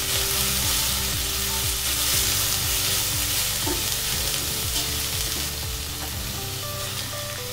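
Continuous sizzling and frying as ingredients are stirred together in a Dutch oven for a braised ox cheek dish, with repeated scraping strokes under a steady loud hiss.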